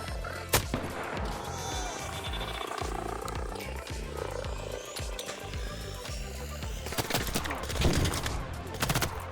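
Gunfire in the video game Arc Raiders, sharp shots cracking out near the start and again in a burst toward the end over a dense, busy game soundscape of rumbling effects.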